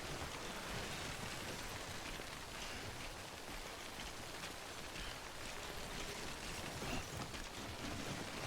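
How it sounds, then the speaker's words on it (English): Steady heavy rainfall in the video game Death Stranding, a dense continuous downpour hissing close and loud throughout with no break and no voices. "why can't it stop raining yet?"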